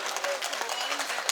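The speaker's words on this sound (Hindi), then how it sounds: "आप जरा जोरदार तालियां बजाएं" Audience at a Hindi poetry recital clapping in a steady, dense patter, with a voice talking over it.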